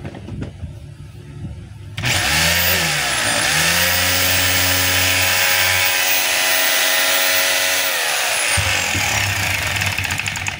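A DeWalt D25032 rotary hammer drill under repair is tested and runs on its own. The motor spins up abruptly, holds a loud, steady whirring hum with wavering pitch for several seconds, then winds down.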